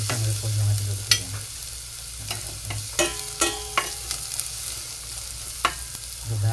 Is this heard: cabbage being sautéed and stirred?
yes